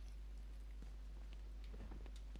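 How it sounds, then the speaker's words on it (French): Storm rain in the Batman Kart video game makes a steady, dense hiss throughout, with scattered soft pattering and a low rumbling undertone, no voices. "a une tempête qui avance vers toi, Batman."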